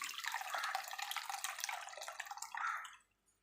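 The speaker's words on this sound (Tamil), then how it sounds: "இப்போ வந்து நம்ம புளி தண்ணி வந்து ஆட் பண்ணிக்கலாம்." Tamarind water poured into a simmering coconut milk fish curry, a steady splashing, trickling pour close by that tapers off near the end, with no talk.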